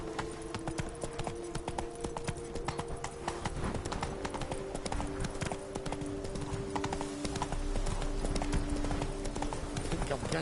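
Roach the horse galloping in The Witcher 3 video game, rapid rhythmic hoof clip-clops repeating steadily throughout, loud and close over a low background hum.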